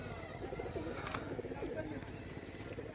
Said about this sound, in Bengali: দেখো পায়রা